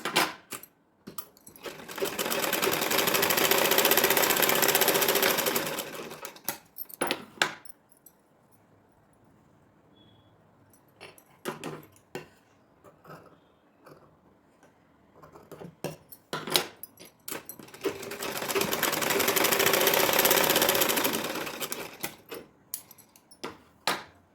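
An electric sewing machine stitches an Anarkali gown cut from an old saree, running in two long steady bursts of rapid stitching separated by a quiet stretch of clicks and fabric handling.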